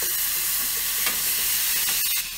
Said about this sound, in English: Butter's melted, not burning. Just gonna throw a little garlic in there